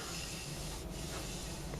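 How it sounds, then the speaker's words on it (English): Light surface sanding on the wooden cabinet of a 1933 Philco 54 radio produces a steady, quiet, continuous rubbing hiss close to the microphone, with no voices. "finish putting a little surface sand on this so it's ready to go"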